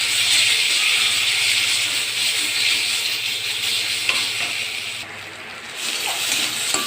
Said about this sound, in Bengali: এই বেটে রাখা তিলটা এর মধ্যে দিয়ে দেবো দিয়ে একটু ঝুড়ো ঝুড়োভাবে ভেজে নেবো তিলটাকে